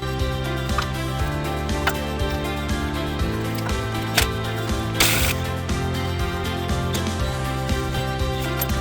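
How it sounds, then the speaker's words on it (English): A breaker bar works on a strut nut of a 2002 BMW E53 X5 during a front strut replacement, giving a string of close metallic clicks and ratcheting ticks over a steady humming background, with a sharper clunk midway. "let's go with a breaker bar for the time being"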